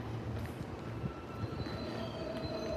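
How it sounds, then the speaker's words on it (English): A subway train rumbles by with a steady low roar and faint metallic squeals, heard from a distance through an enclosed space. "Oh, I hear the subway."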